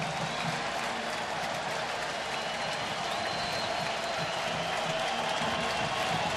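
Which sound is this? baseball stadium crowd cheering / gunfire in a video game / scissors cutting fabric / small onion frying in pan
baseball stadium crowd cheering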